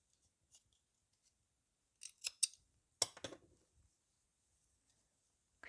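Scissors snip crochet yarn at the end of a strawberry dish scrubber, two or three crisp close cuts in a quiet room.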